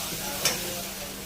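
Onion with chillies, ginger, garlic and black pepper sautés in a pan with a steady, moderate sizzle, broken briefly by a single sharp scrape of a spatula.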